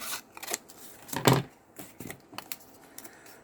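Scissors snip through a wreath ring in a few close, crisp cuts, with one louder chop near the middle amid light rustling of the ring.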